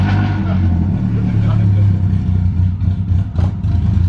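A BMW E36 with a broken gas pedal revs loudly while warming its tires before a cone-and-wall-ride driving contest, a steady heavy engine drone under voices.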